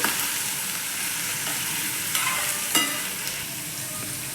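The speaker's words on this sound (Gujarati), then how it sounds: "આપણે બધું એને મિક્સ કરી દઈશું" Eggplant curry being stirred in a pan with cumin, asafoetida and garlic, a constant close sizzle broken by a few scraping spoon strokes, no voices.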